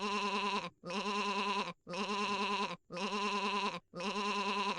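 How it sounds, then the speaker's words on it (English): Five evenly spaced sheep bleats, each about a second long with brief silent gaps between, loud and close. "it is a sheep."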